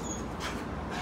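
A dog whimpers softly with a whiny, breathy tone, close and continuous through a short moment with no speech.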